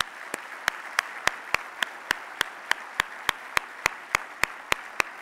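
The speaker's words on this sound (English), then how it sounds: "Let's now have a big round of applause for our sponsors." A single person claps at a steady pace after a call to applaud the sponsors during the opening session of a nursing education summit. The claps come as sharp, regular, fairly faint strikes, evenly spaced across the whole stretch, with no talking.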